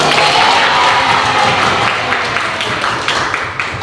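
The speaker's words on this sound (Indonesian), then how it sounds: "tepuk tangan" A classroom of students bursts into dense, loud, continuous applause, a thick wash of many hands clapping together that eases slightly toward the end.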